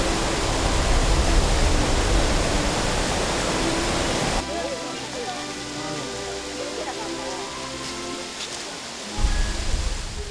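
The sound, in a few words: waterfall flowing after winter thaw at Gangcheonsan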